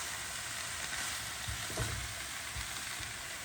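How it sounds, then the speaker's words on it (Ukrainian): Shredded cabbage stewing uncovered in a hot frying pan for a cabbage and mushroom pie filling, a constant near sizzle with a few soft stirring scrapes midway and no voices. "І це все десь приблизно 10-15 хвилин, помішуючи іноді, тушкуємо."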